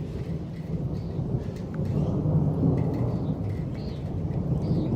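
A severe thunderstorm with 60 mph wind gusts and close lightning rumbles with low, continuous thunder under steady heavy rain, a dense roar swelling slightly in the middle, with faint bird chirps above.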